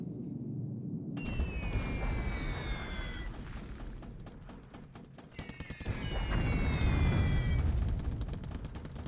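Anti-aircraft flak from ships in a War in the Pacific 1942 naval air battle: a steady, low rumbling barrage of distant bursts with whistling tones laid over it, continuous and moderately loud throughout.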